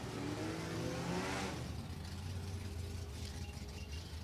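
Stock eliminator drag race cars at New England Dragway, engines roaring loud and sustained, a rising high launch sweep in the first second and a half easing into a steady distant drone.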